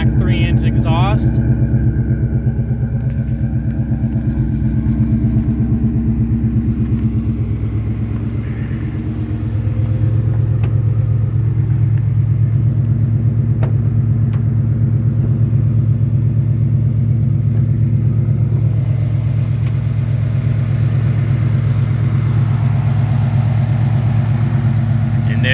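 A Ford Coyote V8 swapped into a Foxbody Mustang with a Mach 3-inch exhaust idles after a cold start, giving a steady, deep, close rumble that holds even throughout.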